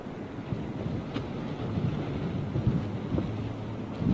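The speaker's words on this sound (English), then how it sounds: "A bit windy up here today, folks." Steady roaring wind buffets the microphone outdoors, with rumbling gusts swelling and fading throughout and no voices.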